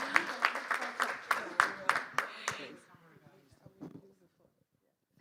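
A small audience claps for the moderator at a panel session on gender equality in democracy, a few seconds of scattered, moderately close hand claps that fade out, followed by quiet room tone.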